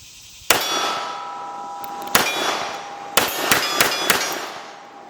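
A Colt Viper .357 Magnum revolver firing Winchester ammunition gives about six sharp, loud reports at irregular spacing, each trailed by a bright metallic ringing.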